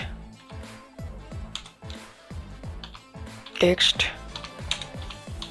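Keys clatter on a computer keyboard as text is typed, a run of quick, close, irregular taps under a man's speech, with a denser burst of clicks partway through.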